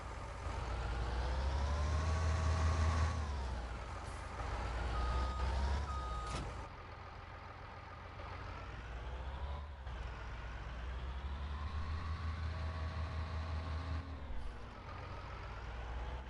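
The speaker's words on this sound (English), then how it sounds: "That's the John Deere mower." A John Deere mower in Farming Simulator 19 runs with a steady engine drone while reversing beeps repeat in a regular rhythm, the engine pitch rising and falling as it moves, with no talking.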